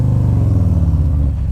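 Close, loud rumble of a 2021 Harley-Davidson CVO Road Glide motorcycle engine idling, a steady low lumpy throb with a faint clatter and no talk.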